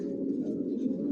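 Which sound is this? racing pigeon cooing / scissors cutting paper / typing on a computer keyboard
racing pigeon cooing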